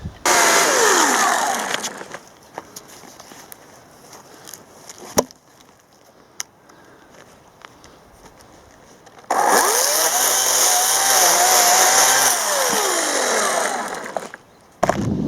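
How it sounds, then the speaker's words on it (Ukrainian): A chainsaw with a dull chain roars loudly through wood, drops to a quieter idle, then revs back up into a second loud cut near the end. "Не треба цією пилкою давити. Та вже й цеп тупувати, і треба гострити."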